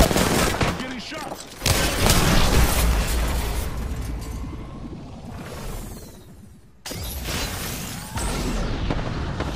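Gunfire in the Apex Legends video game, loud bursts of rapid shots with whooshes and booms in a busy mix, with game voices heard around the shooting.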